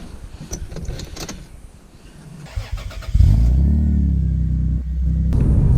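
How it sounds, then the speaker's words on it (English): Non-turbo automatic Toyota Supra: light interior rustling and clicks, then the engine picks up into a steady, loud droning rumble as the car accelerates, heard from inside with no talk. "Just showing you just how slow a non-turbo auto Supra is"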